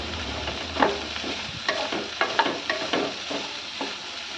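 Chopped French beans frying in hot oil while being stirred, with a soft steady sizzle broken by a series of sharp scraping clinks from the spoon or spatula against the pan, close and without talk.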